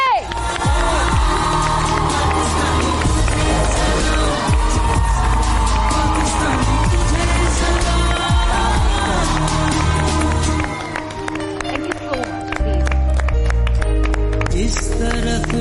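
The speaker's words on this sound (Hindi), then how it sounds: "आप सबकी भरपूर तालियों में समीना बेग।" Studio audience on a morning talk show greets a guest's entrance with sustained loud cheering, whoops and clapping, a dense crowd roar with music under it, dipping briefly before swelling again.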